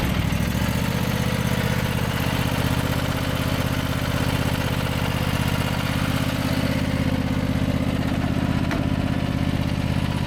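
Stiga Tornado 4108 HWL ride-on lawn mower engine running steadily close by, a continuous low idle-like drone with even harmonic rumble throughout, no talking.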